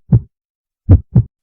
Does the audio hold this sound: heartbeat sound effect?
yes